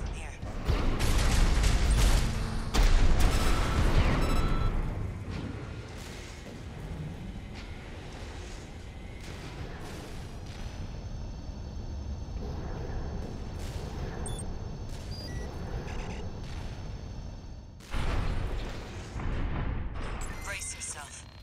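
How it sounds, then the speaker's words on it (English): A launcher fires in the mech game Armored Core VI with heavy, rumbling booming blasts. A loud roar opens the scene and a second burst comes near the end, with a lower mechanical drone between them. "Hop in the container. I'll operate the launcher from here."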